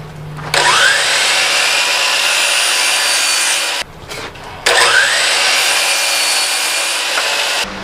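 Two long bursts of a power saw cutting through wood, loud and close, separated by a short pause.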